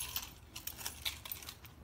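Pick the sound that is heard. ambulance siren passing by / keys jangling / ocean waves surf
keys jangling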